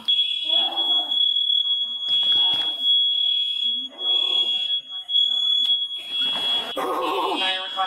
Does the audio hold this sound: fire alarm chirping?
yes